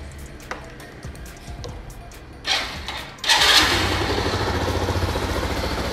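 A Little Cub 50cc motorcycle engine cranks briefly, then catches and settles into a steady, close, rhythmic idle that runs to the end.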